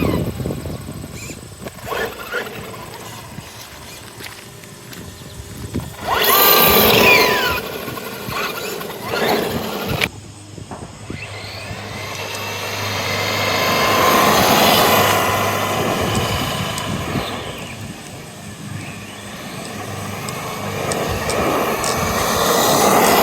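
A small RC car electric motor with a new slipper clutch revs and whines in rising and falling bursts, with surges as the car accelerates and passes, loud and close, without talk.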